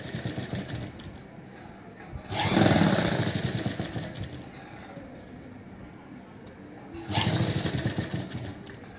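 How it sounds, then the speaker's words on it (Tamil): A sewing machine stitches blouse lining in two short loud bursts of rapid whirring needle clatter, separated by quieter handling noise and a low background hum. "இங்கே நம்ம அமுக்கு தையல் போடப்போம்"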